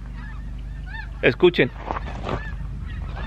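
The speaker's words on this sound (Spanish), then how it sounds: "Son los snow geese que les dicen, y los speckled bellies, estos que están acá." Flocks of wild snow geese and speckled-bellied geese honk in a quick burst of three loud close calls, with scattered fainter honks around them and someone speaking softly.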